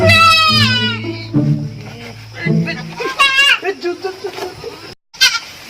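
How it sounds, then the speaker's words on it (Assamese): A goat bleats in long wavering cries, loud and near, followed by several shorter bleats alongside brief human speech. "এই ছাগলীটো কান্দি আছে"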